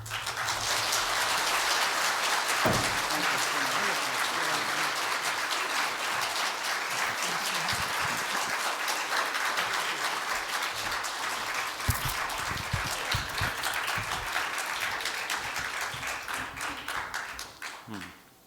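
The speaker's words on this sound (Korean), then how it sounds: "이제 우리 짐 디캠프 목사님 나오실 때 크게 웰컴 박수 해주시면 감사하겠습니다" A church congregation claps loudly and steadily to welcome a visiting pastor, a dense, sustained wash of applause filling the whole stretch before tapering off at the end.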